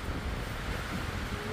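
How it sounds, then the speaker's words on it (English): Strong gusts of wind roar steadily across the open shore of Pyramid Lake in Jasper, buffeting the microphone in a constant, dense rush with no pauses and no voices. "it's really windy in here"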